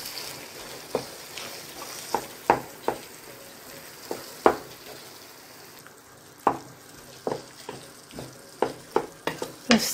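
Eggs being stirred in a frying pan for a pastilla filling, with a steady sizzle broken by repeated sharp scrapes and taps of the utensil against the pan, irregular and close.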